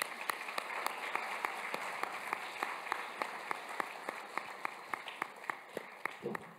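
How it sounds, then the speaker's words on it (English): Indoor audience at a closing ceremony applauding steadily, a dense wash of many hands clapping with a few sharp, distinct claps cutting through, fairly distant and fading slightly at the end. "So big round of applause again."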